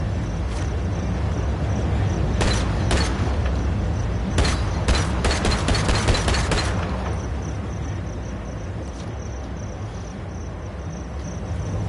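Cannons mounted on trains fire in a video game, a run of sharp booming shots that speed into a quick volley, heard over a steady rumbling game background with no talking.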